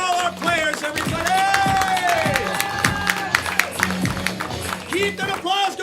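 A comedy club audience claps and cheers loudly and steadily, with scattered whoops rising over the dense applause while a host's amplified voice calls out over the crowd.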